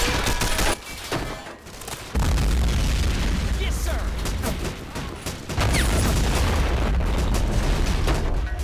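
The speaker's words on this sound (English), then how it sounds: "That mortar is doing some work over here." Mortar rounds and gunfire from the Vietnam War video game Men of War Vietnam on Hill 201, with repeated loud booming explosions and crackling volleys over a dense, continuous battle roar.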